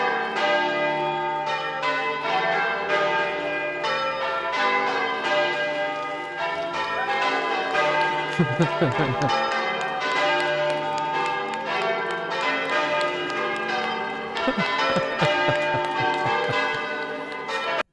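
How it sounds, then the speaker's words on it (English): Bells ring steadily among dense, layered tones, with a few louder strikes standing out midway; the ringing continues throughout without voices. "Oh, listen to the bells."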